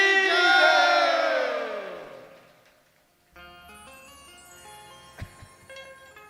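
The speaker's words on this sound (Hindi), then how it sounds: "चलो ताली बजाओ बोलो दंतेश्वरी मैया की" An audience at a Bastar Ramayana (Manas) troupe performance in Kondagaon raises a loud, sustained collective shout of praise to goddess Danteshwari, fading away after about three seconds. Quieter tonal music with a few sharp hits follows.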